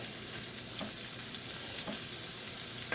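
Kielbasa and cabbage frying in a Lodge enameled cast iron pot, a steady, quiet sizzle with faint crackles and a brief clatter at the end.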